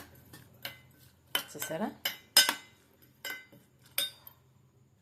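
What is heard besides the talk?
mixing food in a bowl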